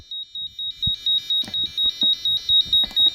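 A demonstration alarm sounds in repeated short electronic beeps at a steady, fast rhythm, loud and close, with faint handling noises beneath and no speech.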